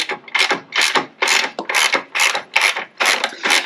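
A ratchet wrench tightens longer, larger bolts with washers while a rear bumper box is built on an expedition camper: about ten even, rapid clicking bursts, close and loud, with no one talking.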